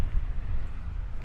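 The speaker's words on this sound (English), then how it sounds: "You probably can't hear me very well because it's really windy" Low, buffeting wind rumble from stormy weather in Spain batters the microphone in uneven gusts, loud and close throughout the short stretch, with no voices.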